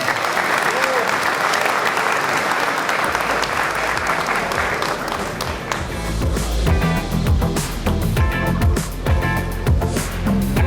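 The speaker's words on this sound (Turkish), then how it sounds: "bizler de çok kuvvetli alkışlarla şahitlik yapar efendim?" Strong, sustained applause from wedding guests witnessing the marriage ceremony, a dense loud wall of clapping that continues throughout, with music joining partway through.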